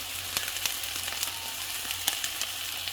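Carrots tipped into rice frying in a pan, a steady close sizzle with small crackling pops and a few brief scrape-like clicks throughout, no voices.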